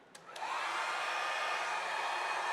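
A hair dryer on a low setting blows air across alcohol ink on a painting surface, switching on with a couple of clicks and then running as a steady, close whooshing hiss.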